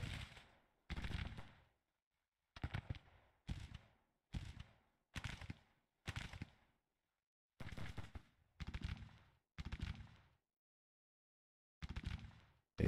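Musket volleys from Civil War troops in a strategy game ring out in about a dozen sharp separate bursts, each with a short decaying rumble, spaced irregularly with silent gaps between them.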